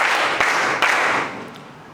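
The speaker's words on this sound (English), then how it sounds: "Clap for him." A classroom audience clapping for a student, a dense burst of applause lasting about a second and a half before fading out, loud and close with no talk over it.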